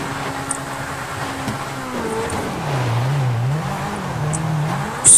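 A car engine in GTA 5 online, revving and shifting pitch as it accelerates, with tires squealing and a sharp bump at the end, loud and up close.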